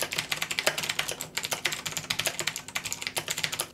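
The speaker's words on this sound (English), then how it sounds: "The keyboard I'm currently using is Razer's Black Widow mechanical keyboard. I don't recommend it because it sounds awful." Rapid typing on a Razer BlackWidow mechanical keyboard, close and continuous, each keystroke a sharp clicky clack in a quick uneven rhythm with no voices.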